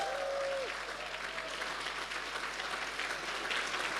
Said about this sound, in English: So another round of applause for our candidate.